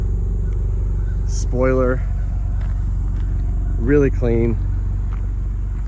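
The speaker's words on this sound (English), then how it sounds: "It's got like a nice little hum to it when it's sitting there idling" A 2022 Subaru WRX Limited AWD idles with a steady, loud low hum that holds evenly throughout, while someone speaks briefly over it.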